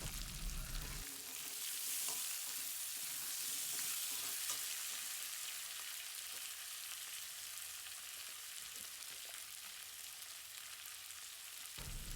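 Potatoes frying in a pan with ginger paste, chopped chilli and tomato, sizzling steadily and loudly while being stirred, with scraping and clinks throughout and no voices.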